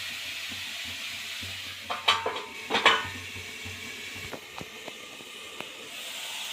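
Mushrooms and garlic fry in a pan, with a low sizzle under clinks and scrapes of a utensil against the cookware, several sharp metallic knocks clustered in the middle and a few lighter taps after.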